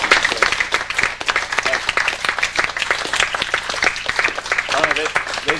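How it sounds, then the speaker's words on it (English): Applause from a class audience fills the room, a dense, steady run of many hands clapping close by that lasts several seconds with little variation in loudness. "So why don't we give them a round of applause?"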